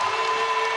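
A basketball arena crowd roars for Derek Lively's first basket in a Dallas Mavericks game, producing a loud, dense, continuous wall of cheering with a steady tone running through it.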